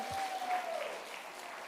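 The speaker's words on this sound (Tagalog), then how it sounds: "Pumalakpak kayo nakarating ngayon dito, amen?" Brief, quiet applause from a church congregation during a Filipino sermon, soft scattered clapping that tails off quickly.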